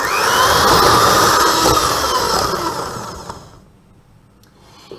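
An electric mixer creams Viennese whirl mixture with a loud, steady whirring that fades away near the end, with no talk.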